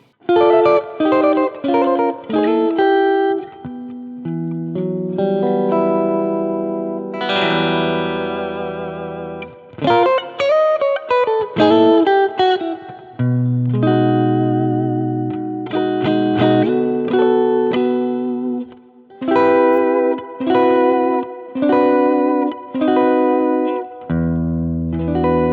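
Clean electric guitar played through an Axe-Fx III with a laid-back, chimey tone: loud, sustained chords and melodic runs with short breaks between phrases, alone without speech.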